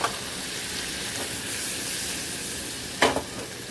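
Carrots sizzling with spices in a pan, a steady close frying hiss throughout, broken by one short scrape or clatter of stirring near the end.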